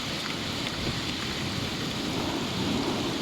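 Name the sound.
thunderstorm with lightning during flood with hail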